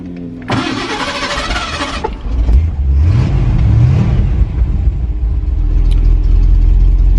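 An '83 Ford Ranger with a swapped-in 5.8L V8 and automatic transmission cranks with a buzzing starter, catches, and rumbles to life, then the engine revs up in a couple of rising swells before settling into a loud, deep idle close by.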